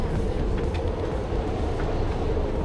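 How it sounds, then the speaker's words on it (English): Small Alishan Express mountain train running on its rails, a continuous low rumble and rattle of the carriage heard from inside, steady and fairly loud, with no talk. "Yeah, it's a tiny little train,"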